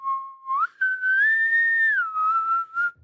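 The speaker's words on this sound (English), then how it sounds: "That was probably the best I've ever whistled." A person whistles a short tune alone, a clear close whistle that holds a low note, slides up to a long sustained higher note, then steps back down and ends with a brief final rise.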